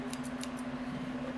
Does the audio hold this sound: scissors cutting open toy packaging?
yes